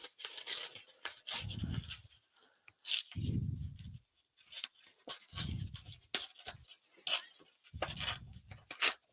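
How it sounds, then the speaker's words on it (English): Paper being torn by hand for a Valentine-themed journal tuck spot, heard as several short, close ripping bursts separated by brief pauses. "Let's tear this."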